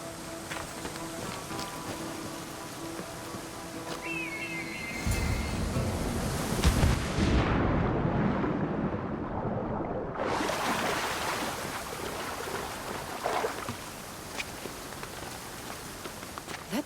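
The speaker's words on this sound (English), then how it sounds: "This is the waterfall. Now to pick a good spot and jump." A rushing waterfall in Assassin's Creed Odyssey roars continuously, then a sharp splash of a dive into the water is followed by a loud, churning underwater wash that surfaces back to the steady fall.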